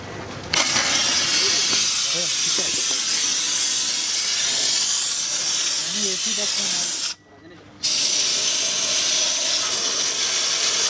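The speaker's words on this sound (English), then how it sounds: "creates high pressure steam and releases" A high-pressure steam sanitizer blasts a loud, steady hiss over patrol cars at a police ground in Amberpet, Hyderabad, running almost continuously and cutting out briefly near the end, with faint voices underneath.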